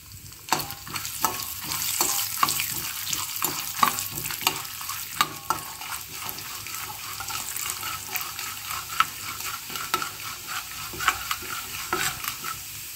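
Roasted gram and peanuts sizzle in hot tempering oil while a spoon stirs them, giving a soft continuous frying hiss broken by repeated scraping clicks.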